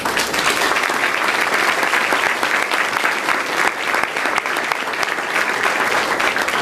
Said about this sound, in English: So I'd like her to stand while you give her a very special round of applause.